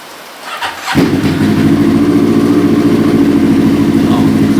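A Honda CBF 500 motorcycle engine fires up after an oil change. A short cranking burst leads into a steady, close, loud idle that runs unbroken for several seconds.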